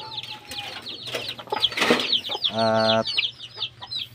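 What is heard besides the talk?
chicks and chickens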